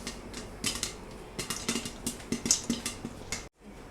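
Popcorn popping inside a covered kadhai, a busy irregular patter of sharp pops and clicks against a steady sizzling hiss, fairly close, ending in a brief cut.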